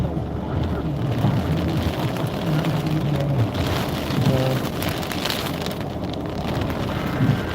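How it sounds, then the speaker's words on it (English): Steady rain and gusting wind of a tornado-warned storm in Westminster, heard from inside a moving car: a constant dense patter on the roof and glass with a low rushing drone beneath, continuous and moderately loud throughout. "we are in the middle of a tornado warned storm"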